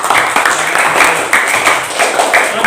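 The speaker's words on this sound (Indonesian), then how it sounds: "Ya, tepuk tangan dulu." A class of students claps hands at school, a lively, fairly loud run of quick claps from several people close by, with a few stronger accents in a loose rhythm.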